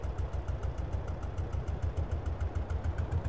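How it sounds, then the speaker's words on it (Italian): A Porsche diesel tractor in Farming Simulator 22 idles with a steady, rhythmic low chug that pulses evenly throughout, loud and close, with no talking. "Porsche diesel, ma vai in moto!"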